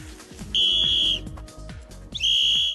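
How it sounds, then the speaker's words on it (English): Rescue whistle blown in two long, shrill, loud blasts, each held for about half a second, with room noise and rumble in between. "the whistle is obviously to signal rescuers so that we can locate you"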